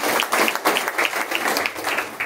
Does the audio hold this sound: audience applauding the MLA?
yes